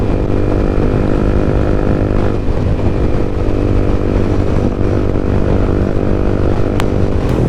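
Yamaha MT-15 motorcycle on Michelin Road5 tyres, its engine droning loud and steady throughout with a constant rumble and no talk.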